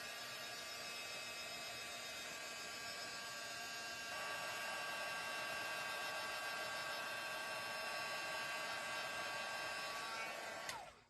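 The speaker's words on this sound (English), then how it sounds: "now I'm going to heat it up off camera because my cord won't reach" A craft heat tool warms embossing powder, blowing a steady, loud whine that gets louder partway through and then cuts off sharply at the end, with no talking.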